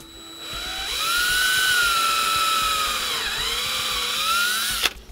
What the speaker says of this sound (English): Then you can reverse your drill.